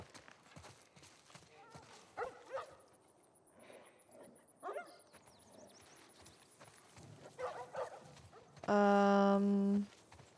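Dogs bark at a distance in a tense scene from the video game The Last of Us Part 1, scattered, faint barks amid footsteps and ambient noise, ending with a loud sustained tone.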